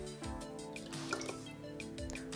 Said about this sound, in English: I'll just dip that in the tea water that's in the bucket